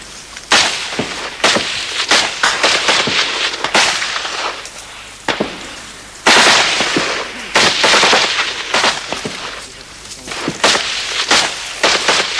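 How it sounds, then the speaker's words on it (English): Heavy machine gun fire and 50mm mortars in a 1975 Indonesian battle against Fretilin, loud repeated cracking bursts and sharp blasts rattling irregularly throughout, some close and explosive, with no voices. "there was a steady barrage of heavy machine gun fire and 50mm mortars"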